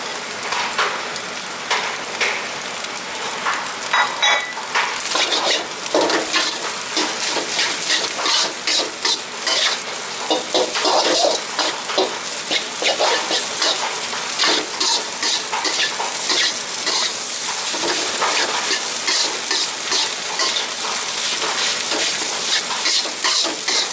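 Rice for nasi goreng is stir-fried in a hot pan with eggs, giving a loud continuous sizzle broken by repeated scraping and tossing strokes of a spatula, close up with no talking.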